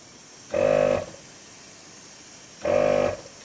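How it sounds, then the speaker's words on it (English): Two separate bursts of hissing, droning air leaking under pressure from a differential air locker, each lasting about half a second, with a quiet mechanical hum between them. "you'll actually hear the air leaks"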